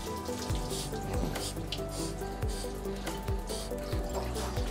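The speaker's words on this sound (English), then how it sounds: "go ahead and rinse off the body" A tap runs steadily as water rinses a French Bulldog's body during grooming, a close, continuous splashing wash with faint rhythmic low thumps beneath it.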